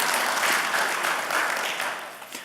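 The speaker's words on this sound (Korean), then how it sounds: "박수 한번 또 쳐주시죠." A church congregation during a Sunday service claps together in a dense, steady burst of applause, loud and close, tapering slightly toward the end.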